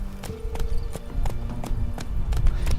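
Hooves of Roach, a horse in The Witcher 3, clop steadily at a walking pace, close and distinct, with a faint horse snort mixed in and game ambience underneath.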